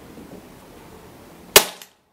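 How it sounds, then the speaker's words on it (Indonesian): A single sharp shot from a Sharp air rifle, pumped seven times, cracks out after a quiet stretch, followed by a brief metallic ring as it fades. "oke tembakan yang kedua"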